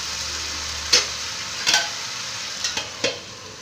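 A spoon stirs Malabar spinach and shrimp curry in a pan over a steady sizzling hiss, with a few distinct scrapes and knocks spaced across the few seconds and no talking.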